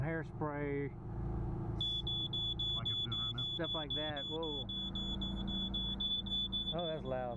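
An RV propane leak detector alarm shrills a loud, continuous high-pitched tone close by, with people talking over it throughout.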